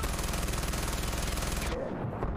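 A gun in the video game Far Cry 4 fires in a rapid, sustained automatic burst that is loud and close, then cuts off abruptly near the end.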